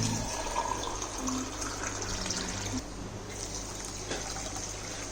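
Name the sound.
water being poured over sugar for jalebi syrup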